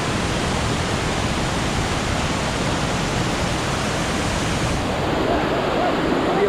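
Loud, continuous roar of the Marmala waterfall in a forest, water plunging from a great height, a steady broadband rush that never lets up, with a faint voice briefly surfacing near the end.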